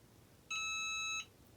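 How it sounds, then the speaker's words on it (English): A Cricut EasyPress heat press timer gives one steady electronic beep of about three-quarters of a second, loud and clear against a quiet room, with no talking. "I'm going to hit the timer, and it is going to tick down the full 30 seconds."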